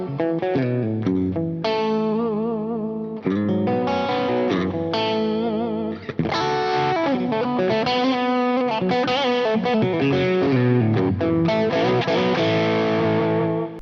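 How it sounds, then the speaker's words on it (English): Electric guitar played through a Fractal FM9 floor modeler, with a stacked overdrive scene over a clean amp, giving a slightly dark, driven tone with shimmering effects as a busy run of chords and single notes that stays loud throughout. "Scene number 2 is my stacked overdrive pedal scene over the clean amp"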